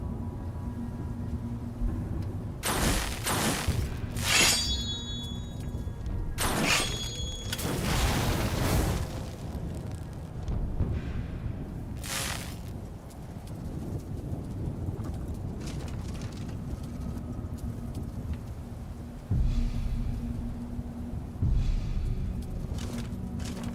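Lightning Nova destruction spell cast in Skyrim, LoreRim modded, a series of sharp crackling electric bursts and booming discharges clustered early, then a low rumbling ambience with a later thump.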